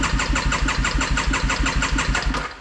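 A motorcycle engine cold starts up close, with a rapid, even chugging pulse that holds steady and then tapers off at the end.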